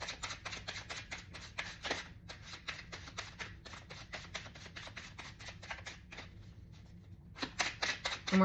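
Tarot cards being shuffled by hand in a quiet room, a steady run of crisp riffling flutters with brief pauses, close and clear, with faint talk near the end.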